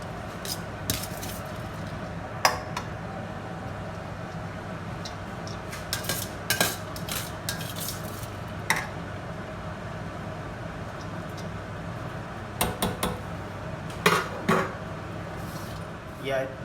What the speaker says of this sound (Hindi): तय लगा रहे हैं चावलों की